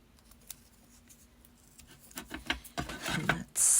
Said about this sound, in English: So I'm just going to do tape across there.